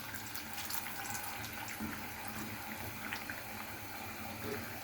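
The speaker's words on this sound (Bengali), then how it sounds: "আমি এরকমভাবেই শুধু নরমাল হলুদের ফাঁকি, মরিচের ফাঁকি এসব দিয়েই ভেজে নিচ্ছি বেগুনিটা।" Eggplant fritters (beguni) coated in turmeric and chili powder hiss and sizzle faintly in hot oil as they deep fry, with a steady bubbling texture.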